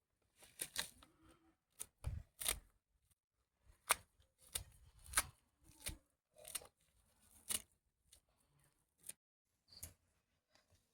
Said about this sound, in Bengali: দেখো পাতাগুলা প্রথমে আমি কেটে নেব।